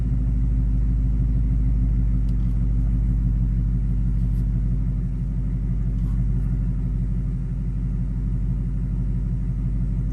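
A 2021 Ford Mustang Mach 1 engine idles in quiet mode, giving a steady, low, even rumble that holds throughout without revving.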